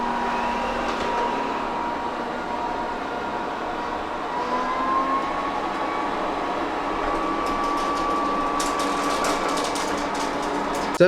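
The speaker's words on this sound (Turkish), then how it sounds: "Halıya geldiği zaman halıyı algılayabiliyor ve halının üzerine çıkıp daha güçlü bir şekilde çalışıyor arkadaşlar." A Botslab S8 Plus robot vacuum runs over carpet with a steady mechanical whir and hum that holds at an even level, rising slightly at moments, then ends with a small clatter.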